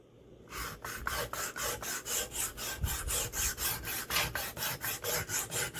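Blade being worked back and forth on a sharpening stone to clean up gouged edges, a rapid, regular rasping scrape repeated in even strokes, close and alone.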